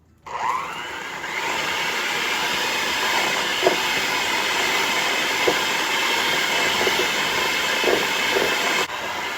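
An electric mixer creams butter with powdered sugar on medium speed, producing a loud, steady whirring drone that runs unbroken with a few faint clicks.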